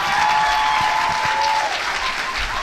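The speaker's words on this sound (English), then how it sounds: "Would you please give a big round of applause to Rokia Jones" Sustained, even applause from the audience at a perinatal services spring luncheon rolls on at steady loudness throughout, with a few whoops and cheers rising above the clapping.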